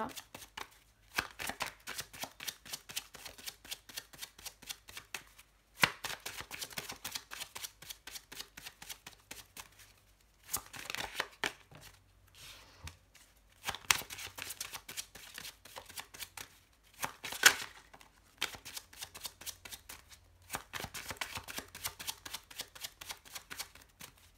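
Playing cards shuffled by hand for a reading, repeated crisp riffling bursts of rapid clicks separated by short pauses, close and clear throughout.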